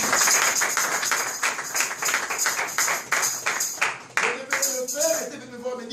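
A church congregation applauding, dense rhythmic clapping from many hands, close and lively, with a voice speaking over it toward the end.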